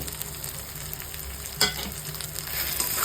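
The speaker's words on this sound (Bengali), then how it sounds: "আদা রসুন লঙ্কাটা যেহেতু ভাজা ভাজা হয়ে গেছে, এবার আমি জিরের গুঁড়ো, ধনের গুঁড়ো আর হলুদের গুঁড়ো দিয়ে দেব" Ginger, garlic and chili fry in oil with cumin, coriander and turmeric powders for a chicken kosha, giving a steady close sizzle with a sharp stirring clack partway through.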